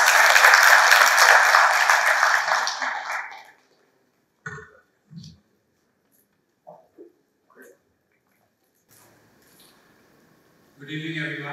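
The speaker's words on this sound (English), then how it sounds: "with a huge round of applause" Audience applause at a business seminar, a loud burst of clapping that fades out over a few seconds, followed by scattered small noises and then a speaker beginning to talk.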